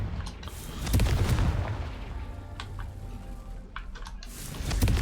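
A Confringo fire-blast spell in Hogwarts Legacy bursts loudly and is followed by a crackling, rumbling tail of several sharp secondary pops, with no talk over it.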